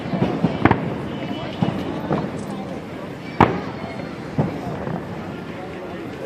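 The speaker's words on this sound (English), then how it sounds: "We wait for fireworks." Fireworks bursting outdoors over Washington DC on the Fourth of July, several sharp distant booms and crackles spaced a second or so apart against wind and crowd murmur, with people talking between the bangs.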